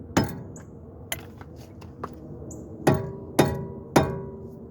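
Hammer taps on the rear brake parts of a VW Corrado: six sharp metallic strikes, a few isolated then three evenly spaced near the end, close and ringing slightly.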